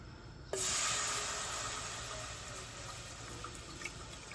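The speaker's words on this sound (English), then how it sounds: "we're gonna add our water" Water suddenly starts pouring into a cooking pot, a strong splashing gush that settles into a steady running stream.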